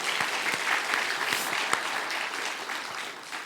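A church congregation applauds in a dense, even wash of many hands clapping at once, sustained throughout with a few sharper claps standing out.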